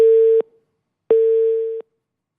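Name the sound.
telephone busy tone during dropped phone connection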